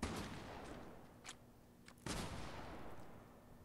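Fortnite gunfire cracks out in a few sharp bursts, one at the start, a softer one mid-way and a louder one near the end, over a low background hiss.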